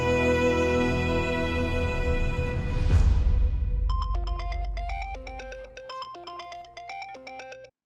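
A phone ringtone plays: a sustained tonal swell gives way to a repeating electronic melody of short beeping notes, clear and close, with no talking.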